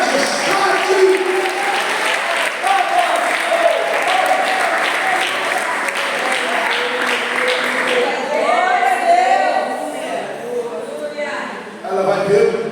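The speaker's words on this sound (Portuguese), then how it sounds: "Que pode aplaudir e glorificar a majestade." A church congregation applauds in steady, sustained clapping that fills the room, with voices calling out over it and the applause fading toward the end.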